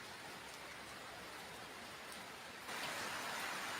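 Steady rain falls across the whole stretch, a continuous hiss that grows noticeably louder and denser near the end, with no voices over it.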